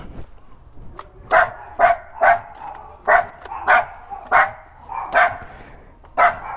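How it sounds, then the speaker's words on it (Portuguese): Small dogs barking outside a house during a delivery stop, about a dozen sharp yaps in an irregular series, fairly close and loud with short gaps between them. "Os cachorrinhos latindo."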